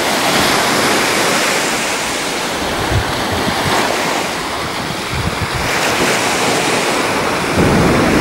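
Surf washes steadily onto a Crimean beach where the Belbek river meets the sea near Sevastopol, a continuous broadband roar of breaking waves with wind buffeting the microphone throughout, no voices.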